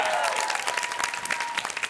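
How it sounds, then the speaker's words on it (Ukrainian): A studio audience at a Ukrainian television show claps in a brief, loud burst of applause, dense and close, with a faint tonal sound running underneath. "Ваші оплески"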